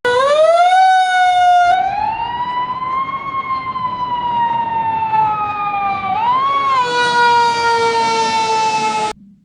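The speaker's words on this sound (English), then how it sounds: "a fire engine horn blows, followed by a fire engine siren blowing" A fire engine gives a short horn blast, then its siren sweeps up and wails with rising and falling pitch, loud and close throughout, then cuts off sharply at the end.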